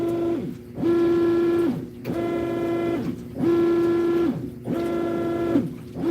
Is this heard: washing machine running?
yes